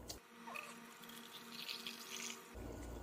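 Tap water runs steadily into a container, a continuous close splashing fill that cuts off near the end.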